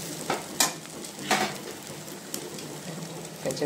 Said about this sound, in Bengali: কাঁচা পেঁয়াজটা খেতে পারে না, একটু জাস্ট একটু নাড়িয়ে নিলাম